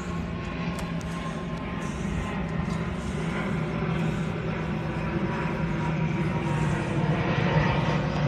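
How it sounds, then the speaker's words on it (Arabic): A fixed-wing airplane passes overhead above a park in Stockholm, its broad engine roar steady and gradually swelling louder as it nears. "هاي الطيارة،"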